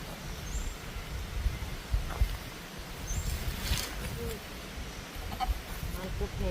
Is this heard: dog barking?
no